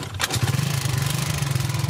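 A scooter with automatic transmission and key immobilizer starts and runs with a steady, throbbing idle, its engine close and fairly loud after a brief sputter as it catches.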